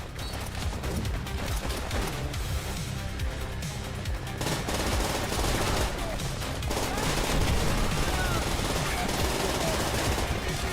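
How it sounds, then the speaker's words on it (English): Rapid automatic gunfire from a fast-firing gun in Call of Duty: World at War, played on Xbox 360, rattling steadily and loud through the whole stretch with dense, continuous bursts and a busy battlefield mix behind it. "This gun is ridiculous. This is a fast shooting gun."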